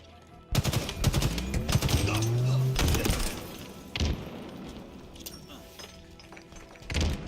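Bursts of gunfire in Halo Infinite multiplayer, rapid automatic shots and heavy thumping impacts that come in loud clusters, with someone talking over parts of the action.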